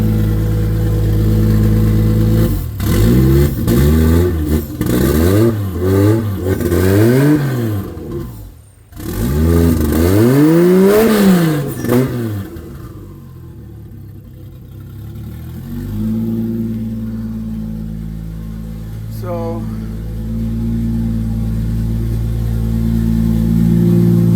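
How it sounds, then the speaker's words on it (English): Toyota Supra MK2 engine revving up in a series of rising and falling blips close by, then settling back to a steady idle before shutting down. "Gonna rev it up just a little bit and then shut her down."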